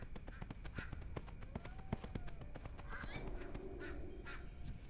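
Ducks in World of Warcraft during the Noblegarden event give repeated honking quacks over a steady game background, with a short rising call partway through.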